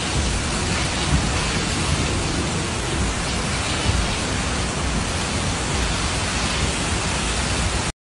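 A dense, steady downpour from a dawn rainstorm over Lombardy in northern Italy roars without a break, heavy and close, with low rumbles of thunder folded into the constant hiss of falling water.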